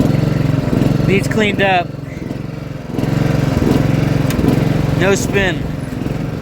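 The engine of a John Deere GX75 lawn tractor, whose PTO blades won't engage, runs steadily nearby with a throbbing mechanical chug while someone talks close over it.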